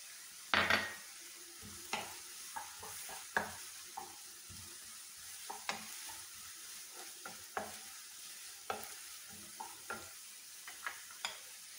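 Green chillies frying in a pan for upma, a soft steady sizzle broken by a dozen or so light, sharp scrapes and taps of a stirring spoon, close but quiet, no voices.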